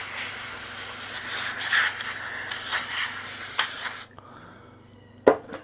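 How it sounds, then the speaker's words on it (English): Contact cleaner hisses out of an aerosol can in a steady spray into a crackling radio for about four seconds, then cuts off, followed by a couple of sharp plastic clicks and a louder knock. "I'm literally just going to douse it with this contact cleaner"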